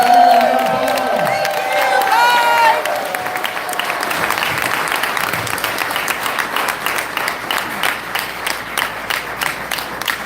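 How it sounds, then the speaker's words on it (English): A voice speaks over rising applause at a political event, then a crowd claps steadily and cheers for several seconds, the clapping settling into a rhythmic patter. "let's give him another resounding round of applause"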